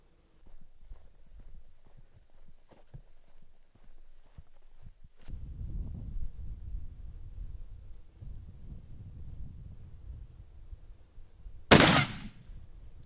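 A rifle fires one loud, sharp shot at a target near the end, after a stretch of low outdoor rustling and faint handling noise, with the report ringing briefly afterward.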